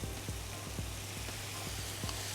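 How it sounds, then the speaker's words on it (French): Sizzling and frying as autumn fruits with grapes are deglazed in a pan with pinot wine, a steady close hiss with faint stirring scrapes, no talk. "On va déglacer"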